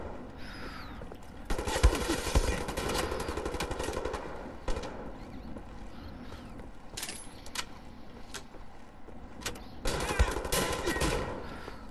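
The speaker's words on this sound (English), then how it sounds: "Double barrel shotgun for the win." Double-barrel shotgun blasts in the video game Wolfenstein The New Order, several loud bursts spaced apart over a busy combat background.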